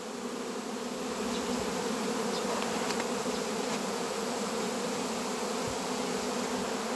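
Swarm of bees buzzing densely around a beehive, a steady, loud, continuous drone that holds without break throughout, with no voices.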